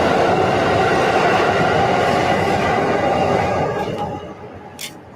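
A subway train rumbles beneath a metal vent cover, a loud continuous roar with rattling that fades toward the end, followed by a brief high squeal.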